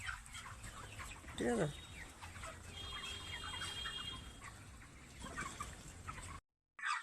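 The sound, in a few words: broiler chickens clucking in a poultry shed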